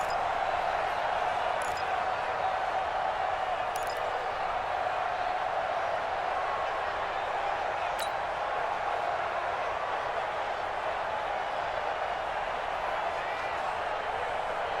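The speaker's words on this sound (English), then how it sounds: "The crowd getting into it as we come up on a big 3rd down." A stadium crowd in Madden NFL 20, Bengals versus Steelers, making a steady, continuous roar as a big third down approaches, with a commentator talking over it.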